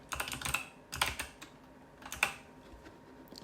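Computer keyboard typing in short bursts of crisp key clicks, close and fairly quiet, entering a word into an AI prompt while playing the game InZoi; no one talks.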